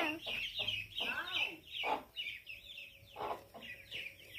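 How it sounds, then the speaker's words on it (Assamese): Ducklings call in a run of short, repeated peeping cries, close and fairly loud, heard outdoors at a pond's edge in a deep forest setting. "হে হে হাঁহ পোৱালি চা।"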